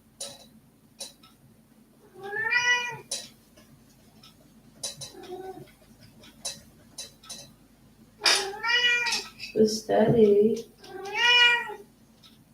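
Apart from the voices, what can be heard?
cat meowing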